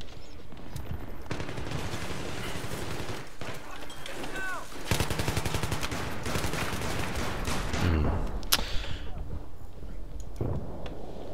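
Rapid automatic gunfire from an AUG rifle in Battlefield 3 Close Quarters, loud sustained bursts with dense repeated shots and game battle noise throughout, some speech mixed in.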